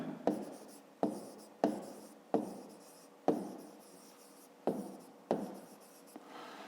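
A pen writes numbers by hand on paper during a fifth-grade math exercise, giving seven separate scratchy strokes spaced about a second apart, close and fairly quiet, with no voice over them.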